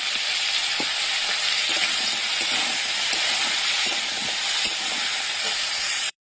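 Oil sizzles and crackles steadily as fish fries, a dense continuous hiss with small pops, then it cuts off abruptly at the end.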